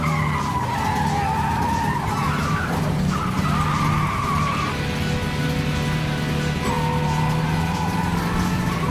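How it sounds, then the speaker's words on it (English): Roblox Brookhaven race cars skid and squeal their tyres loudly over revving engine drone, with wavering screeches rising and falling across several seconds. "Gentlemen, start your engine."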